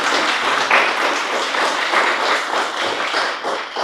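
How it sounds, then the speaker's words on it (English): An audience applauds an award runner-up at a book award event, with steady, continuous clapping from a crowd that holds at an even level throughout. "let's give an applause to Metka"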